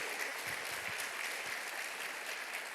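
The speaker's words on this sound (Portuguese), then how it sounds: "Você pode aplaudir Jesus Cristo?" Church congregation applauding steadily throughout, a dense sustained wash of clapping with no pauses.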